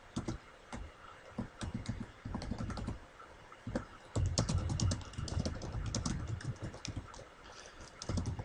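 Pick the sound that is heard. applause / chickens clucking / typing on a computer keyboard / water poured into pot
typing on a computer keyboard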